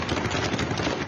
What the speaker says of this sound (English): The sound of rapid gunfire